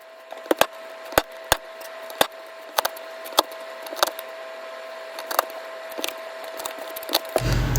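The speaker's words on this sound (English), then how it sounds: "You're gonna peel all of the garlic and smash them like I said earlier, and just place them in the pot." Peeled garlic cloves for a long-simmered ramen broth being smashed on a wooden board, a series of sharp, irregular knocks and cracks up close, about a dozen spaced over several seconds with no talking.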